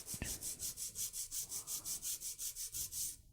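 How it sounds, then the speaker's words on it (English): A disposable file rasps an acrylic nail in quick, even back-and-forth strokes, about five per second, close and steady before stopping abruptly. "file straight out from the nail groove on the right."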